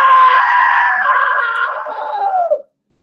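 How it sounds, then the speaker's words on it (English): A loud, sustained scream from a character in the video game What Remains of Edith Finch lasts about two and a half seconds, then falls in pitch and cuts off into silence. "Now that was a great scream"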